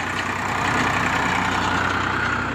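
A tractor engine idling at a farm, a steady low rumbling drone that holds constant and loud for the whole short stretch.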